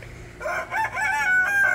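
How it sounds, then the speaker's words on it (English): A chicken in a homestead coop gives a short rising call, loud and close, then a few quick clucks. "There's one of my cluckers coming up now to see what's going on."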